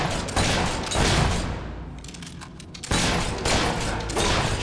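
A gunshot in Fable 3 on Xbox Series X lands as a loud burst of sharp blasts, a brief lull, then more booming reports, with no speech.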